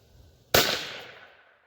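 A single sharp rifle shot from a Rossi .22 WMR firing a 30 grain Hornady VMAX round, one loud close crack with a short decaying ring-out and no talk.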